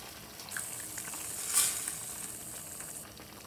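Steady hissing sizzle of pasilla chili sauce poured into a hot pan, with a brief louder surge of crackling midway, close up and no voices.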